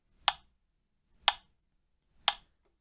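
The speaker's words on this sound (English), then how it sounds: "we could play the same example with the metronome helping us stay in time" Three crisp metronome clicks spaced one second apart at 60 beats per minute, evenly timed, close and clear, with silence between each tick.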